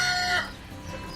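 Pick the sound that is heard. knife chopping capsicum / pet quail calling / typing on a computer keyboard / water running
pet quail calling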